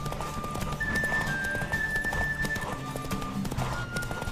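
A horse gallops in The Witcher 3, its hooves drumming in a fast, continuous clip-clop close by, with a faint whinny and some game ambience underneath.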